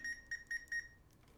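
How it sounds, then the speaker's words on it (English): A multimeter's continuity tester beeps while probing the switch contacts on a YD68 keyboard PCB, four short, faint, high electronic beeps in quick irregular succession, followed by quiet background. "So I think you guys can hear the beep, right?"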